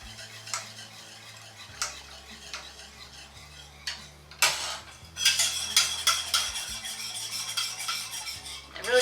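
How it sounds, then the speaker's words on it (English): Milk and cream whisked in a pot on a stovetop over medium heat, quick rhythmic metallic clicks and taps of the whisk against the pot, growing busier and louder toward the end, with no talk. "we're just going to kind of whisk them and bring them up to temperature on medium heat"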